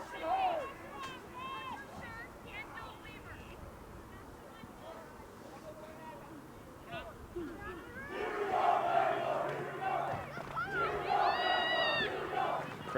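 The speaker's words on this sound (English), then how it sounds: "Crowd trying to get back in it." Crowd cheering and shouting at a girls' high school soccer championship game between Blaine and Centennial, distant and roomy, swelling louder in the second half while an announcer talks over it.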